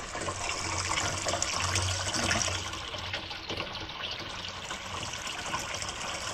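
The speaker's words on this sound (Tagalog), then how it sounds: "Yan, lakas ng tubig nito mga kautol." Strong water gushes from a pipe feeding a household supply, making a loud, continuous rushing splash that stays steady and close for several seconds.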